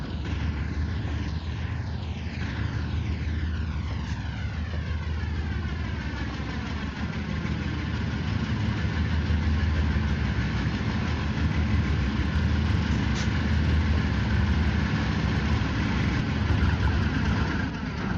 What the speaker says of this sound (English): 4-axle GE sound. If anybody's seen my videos at the Stelter Road overpass, you'll know this sound. I'm gunning a bit here.